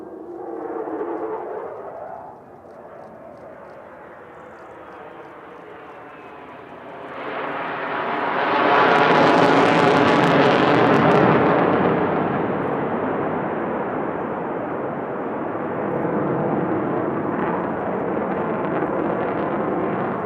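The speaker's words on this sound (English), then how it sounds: "this fully aerobatic F-35B demonstration" An F-35B fighter jet flies a fully aerobatic airshow demonstration at Fleet Week 2023. A quieter engine tone swells into a loud, sustained roar partway through, with no talking.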